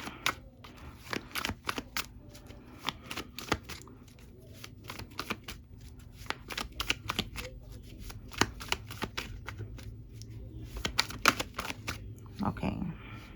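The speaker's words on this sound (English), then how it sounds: "I didn't really get to shuffle like that." Tarot cards shuffled by hand in a run of crisp, rapid riffling snaps and soft slides, close and fairly quiet, with occasional low talk beneath.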